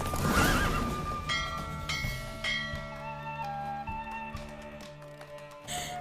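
A horse neighs loudly at the start, followed by hoofbeats and tonal game-like sounds during a horse race in The Witcher 3: Wild Hunt; no talking.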